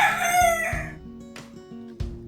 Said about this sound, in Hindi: मुर्गा बांग देता है।